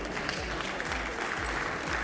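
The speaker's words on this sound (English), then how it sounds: "Give her a round of applause, please." An audience at a live awards ceremony for long-serving honourees applauds, a continuous dense patter of many hands at moderate loudness with a low rhythmic thump underneath.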